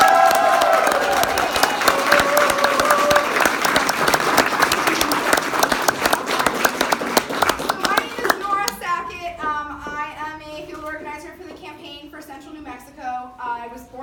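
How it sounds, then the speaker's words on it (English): Crowd applause at a New Mexico volunteer event in Albuquerque for Michelle Lujan Grisham, loud dense clapping that fades after about nine seconds into talking and a few scattered claps. "Can we just give one more round of applause?"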